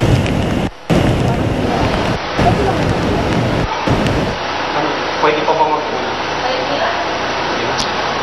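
Strong wind roars steadily in a broad, noisy rush with gusty swells, heard outdoors with a voice speaking over it.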